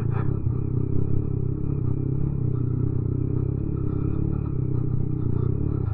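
A motorcycle labouring up the rough Zojila Pass in Ladakh, its engine a steady low droning rumble with faint clatter, close and continuous without letup.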